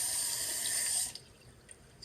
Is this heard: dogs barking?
no